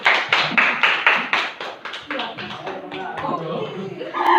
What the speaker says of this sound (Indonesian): berikan tepuk tangan untuk Pak Bambang